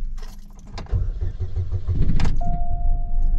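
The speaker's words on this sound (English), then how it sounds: "Now if I put it back into neutral, then I'm able to start it back up." Chevy HHR engine cranking and restarting in neutral after stalling, a loud burst of starter and engine noise near the middle, then a steady idle with a thin whine, close by.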